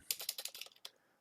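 Quick burst of typing a short command on a computer keyboard: about a dozen crisp, close key clicks in rapid rhythm over one second, ending with a single firmer keystroke, with no talking.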